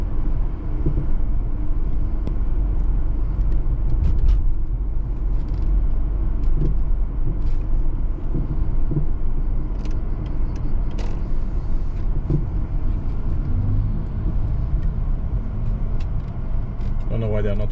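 Road traffic rumbles steadily at a bus stop, with a continuous low vehicle drone and occasional creaks and clatters throughout, while people talk over it.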